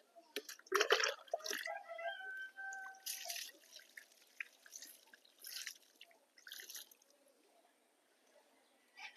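Water is poured onto soil in a grow bag outdoors, with close dripping and splashing that comes in uneven bursts and then thins to sparse drips.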